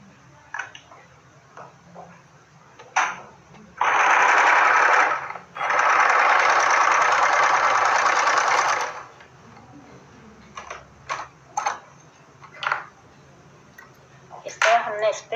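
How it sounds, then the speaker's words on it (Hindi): A sewing machine stitching the crotch seam of a salwar runs in two loud, steady bursts, then gives way to scattered clicks and handling noises from the fabric and machine. "इन दोनों को भी इस तरह सिल लेंगे"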